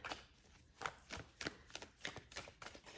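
Tarot cards being shuffled, a series of quiet, crisp riffling and slapping bursts in an irregular rhythm, close and soft against a faint background.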